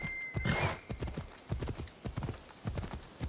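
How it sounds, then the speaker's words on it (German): Horse hooves clip-clopping across a bridge in the video game Assassin's Creed Odyssey, a steady, faint trotting rhythm with a brief neigh near the start. "Wir reiten hier über die Brücke."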